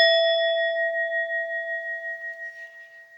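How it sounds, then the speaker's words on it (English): A small bell is struck once, giving a clear, bright ring that decays slowly and wavers over about three seconds in an otherwise quiet room. "we'll just ding the bell and we'll get into it."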